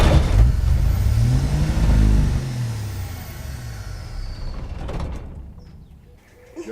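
A Willys jeep engine cranks and catches, revving loudly up and down for several seconds before dropping off as it dies.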